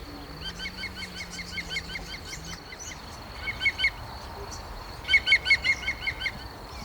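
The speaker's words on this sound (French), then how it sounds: "Ça piaille dans les hautes branches où sont installés plusieurs voisins diurnes et parfois bruyants." Small birds chirp and twitter in repeated quick bursts high in willow branches, fairly close and lively, with a low steady background hum and no talk.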